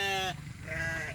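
A sheep or goat on an Indonesian livestock farm gives two short bleats, a loud wavering call followed by a softer one after a brief pause, close to the listener, with no talking.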